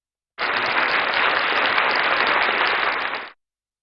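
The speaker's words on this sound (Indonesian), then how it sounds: "Kasih tepuk tangan dulu dong" A church congregation applauds, a dense, even wash of many hands clapping that starts abruptly, holds steady and loud for about three seconds, then cuts off, with no voices over it.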